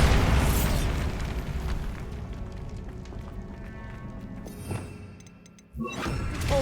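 Bombarda spell explosion in Hogwarts Legacy, a loud broad blast that fades over several seconds, followed by a sharper crack and rumble near the end, with no speech.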